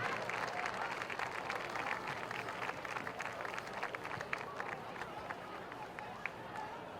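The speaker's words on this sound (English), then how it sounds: "How about a nice round of applause for Sharon R. McDonald, class of 1981." An indoor crowd applauds a hall of fame inductee at a high school ceremony, with steady dense clapping that lasts the whole stretch and cheers and voices mixed in.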